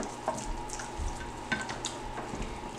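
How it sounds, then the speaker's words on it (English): Seasoned country-style ribs and vegetables are mixed and massaged by hand in a bowl, giving soft wet squelching and light rustling, quiet and close with a few small bumps, no talking. "Mix it around."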